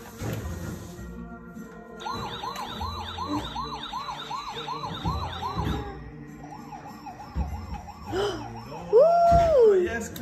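A toy police car siren wails in repeating electronic up-and-down tones, switching patterns partway through, with a voice speaking nearby and a brief sung imitation near the end.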